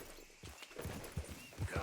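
Horse hooves clip-clop in Red Dead Redemption II, a quiet, uneven series of soft thuds under faint game ambience.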